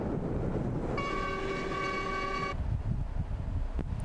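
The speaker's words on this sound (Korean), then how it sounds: "시안을 벗어나자마자 우르무치로 향하는 열차가 함께 달린다" A train heading west from Xi'an toward Urumqi rumbles along steadily and sounds one long horn blast partway through before the rolling noise carries on alone.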